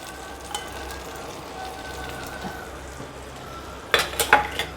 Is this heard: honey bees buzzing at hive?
no